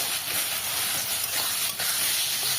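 Drained snake gourd hitting a hot pan of frying paste: a bright, steady sizzling hiss that fills the short moment, loud and close, with no one talking.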